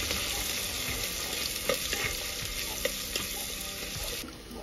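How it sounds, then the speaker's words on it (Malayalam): Fenugreek, curry leaves, coriander leaves and shallots frying in oil for a Kerala-style fish curry: a steady close sizzle with scattered scrapes and knocks of a spoon stirring the pan, and no talking. "ഉലുവ കളർ മാറി കഴിയുമ്പോൾ കറിവേപ്പില, മല്ലിയില, ചെറിയുള്ളി ചെറുതായി എരിഞ്ഞത് 8 എന്നിട്ട് നന്നായി ഇളക്കി കൊടുക്കുക"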